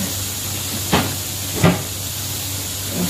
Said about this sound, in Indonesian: Proses menggoreng kue siput